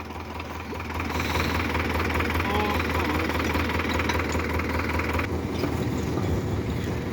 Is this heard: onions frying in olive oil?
no